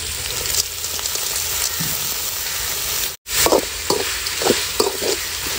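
Turkey meat sautéing and frying in a pan, a steady close sizzle broken by stirring scrapes and clatters, with no talking.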